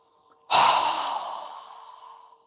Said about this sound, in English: go ahead and inhale. Strong exhale.